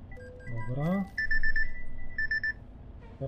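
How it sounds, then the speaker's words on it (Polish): An alarm clock sounds in two bursts of rapid, high electronic beeping, close and fairly loud, after a brief gliding voice-like tone at the start. "O mój budzik."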